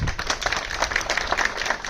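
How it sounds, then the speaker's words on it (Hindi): Thin, scattered clapping from a crowd at a protest sit-in by unemployed youths, a few hands beating loosely and unevenly for a couple of seconds, moderately close and not very loud. "इतनी कमजोर तालियों के लिए बेहद शुक्रगुजार हूं"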